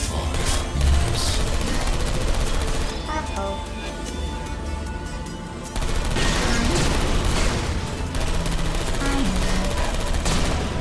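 Turret gunfire in the Portal Stories: Mel video game rattles in dense, continuous automatic bursts with a brief lull in the middle, loud and close, with no talk.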